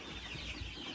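Chickens cluck softly and continuously at an Adler breed chick farm, a faint, dense murmur of fowl with no talk.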